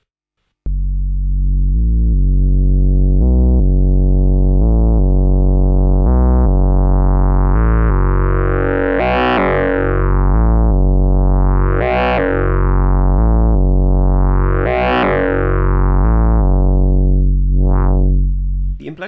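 A sine wave fed through the wave folder of a Magella Audio Implexus synthesizer drones steadily, growing brighter and buzzier as harmonics are added, with repeated sweeping swells of folded overtones, loud and alone.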